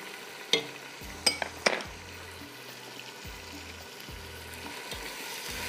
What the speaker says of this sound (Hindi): हल्का सा हम इसको फ्राई करेंगे।